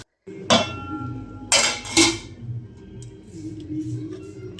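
Metal utensils clink and scrape against a pan as fried eggplant is lifted into a bowl, a few loud close clatters followed by softer scraping and frying sizzle.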